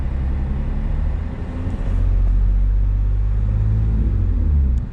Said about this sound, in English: to start moving, you wanna gas it, and slowly let go of the clutch